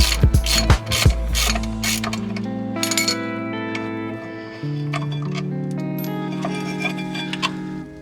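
Spanners work on the sliders of a hot hatch's rear brake caliper, giving close ratcheting clicks, metallic clinks and a tonal mechanical whirring that shifts pitch partway through.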